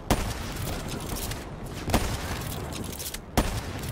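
Sniper rifle fire in Black Ops 3 multiplayer on the Raid map: three sharp, isolated cracks spaced about a second and a half apart, each standing out loud and close above a steady bed of background game noise.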